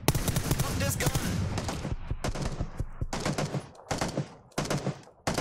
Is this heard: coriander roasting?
no